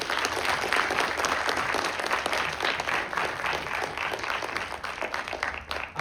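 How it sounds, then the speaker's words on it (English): Audience applause fills a large event hall at a startup pitch competition, a dense steady wash of many hands clapping at moderate distance, holding evenly before tapering slightly at the end. "please give him an applause to Dan Ado"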